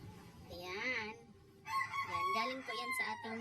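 Backyard rooster beside a house crows a full cock-a-doodle-doo, followed by a burst of clucking and squawking from the hens kept alongside, fairly close and loud.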